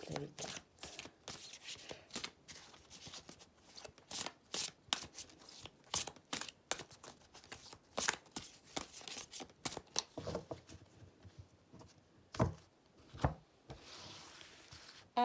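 Oracle cards shuffled for a weekly Sagittarius card reading, a rapid run of crisp riffling slaps and soft rubs in quick irregular bursts, close up, with a voice talking intermittently in between.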